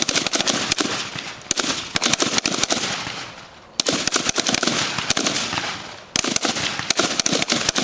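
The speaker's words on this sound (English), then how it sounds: "how to handle a gun and shoot their targeted positions" Rapid bursts of gunshots during a student shooting skills demonstration, loud sharp cracks fired in quick volleys with two brief pauses, no talk.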